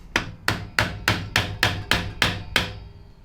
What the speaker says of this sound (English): He's using a claw hammer.